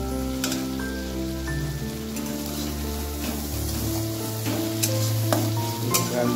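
Green peas and softened tomato frying in a pan, giving a dense, steady sizzle with some stirring clatter, close and fairly loud, with a droning tonal hum underneath.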